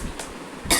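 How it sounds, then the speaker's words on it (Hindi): A woman coughs twice, a short harsh burst followed by a louder, fuller one close to the microphone, with no talking in between. "खांसी हो रही है,"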